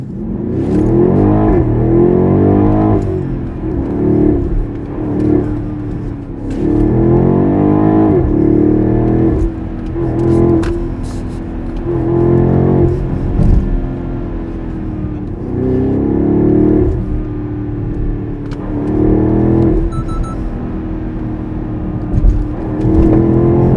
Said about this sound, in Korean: 스포츠 플러스만 놓고 가속 페달로만 조작을 해볼게요.